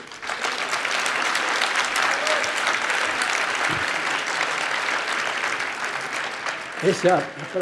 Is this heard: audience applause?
yes